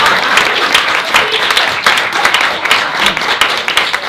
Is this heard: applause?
yes